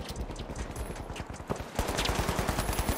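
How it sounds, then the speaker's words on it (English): Rapid automatic gunfire in the video game The Finals, a dense string of loud, punchy shots that grows heavier midway, close and continuous with no pauses. "You can shoot through this, by the way, Alex."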